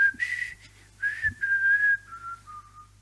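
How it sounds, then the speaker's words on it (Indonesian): Someone whistles the hymn Amazing Grace, a clear solo melody of sustained, sliding notes with short breaths between phrases, close and alone. "Dia bersiul Amazing Grace."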